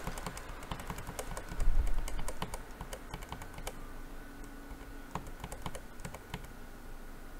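Repeated clicks of a PC keyboard key, the escape key pressed over and over at boot, sound as sharp, fairly quiet taps over a steady background hum from the computer.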